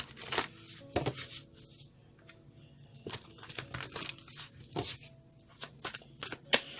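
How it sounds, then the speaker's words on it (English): Close, quiet shuffling of a tarot deck: repeated papery riffles and flicks in irregular bursts, with no talking. "2 more shuffles, they said."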